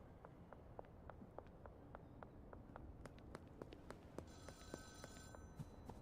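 A payphone rings in a video game, heard as a faint electronic ring near the end over a low steady background of soft, evenly spaced ticks.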